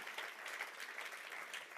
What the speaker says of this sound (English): Clap your hands if that's awesome.